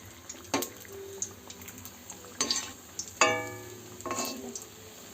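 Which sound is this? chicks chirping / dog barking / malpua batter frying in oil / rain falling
malpua batter frying in oil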